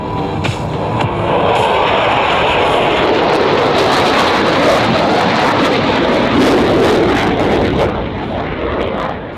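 An F/A-18F Super Hornet jet flies past at an Australian air show, a loud, broad roar that swells quickly, holds powerfully through the pass, then begins to ease at the end, with no talk.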